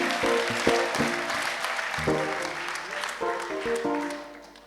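Sustained clapping from a crowd at a Christian worship gathering, steady and fairly loud throughout, mixed with sung or played music carrying clear sustained tones.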